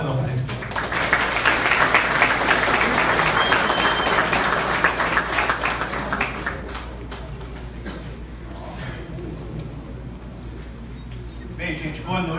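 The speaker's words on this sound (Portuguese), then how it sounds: "Uma salva de palmas ao Valdenão" Applause from an audience at an evening presentation, full and steady for several seconds before thinning out, with scattered claps and faint room noise afterward.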